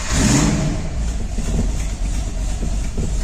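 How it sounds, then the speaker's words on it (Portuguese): A car with Holley Sniper fuel injection, cold after sitting for several days, fires up and runs with a loud, close, rough rumble that stays heavy and uneven throughout. "Vou dar a partida, ó. Tá frio o carro, tá?"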